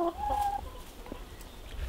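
A hen being caught by hand lets out a sharp, brief squawk and cluck at the start, then goes quiet against a faint outdoor background.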